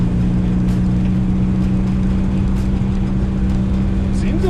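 A pink 1969 Volkswagen Beetle driving on its first run in 14 years, its air-cooled engine droning steadily and close up with a constant low hum throughout.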